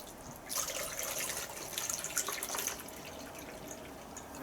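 Water pours steadily into the reservoir of a Russell Hobbs 3-tier food steamer, a continuous trickling splash that starts after a brief pause and runs close and moderately loud to the end, with no talking.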